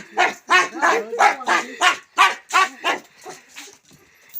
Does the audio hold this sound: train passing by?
no